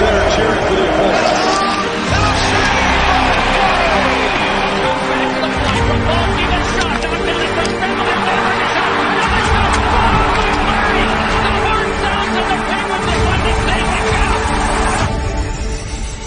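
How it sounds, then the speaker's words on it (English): Hockey crowd at the Bell Centre in Montreal roaring and cheering in a steady, dense wall of sound for the whole stretch, with broad babble and shouting and no single voice standing out. "you'll hear the fans at the Bell Center cheering for the opponents"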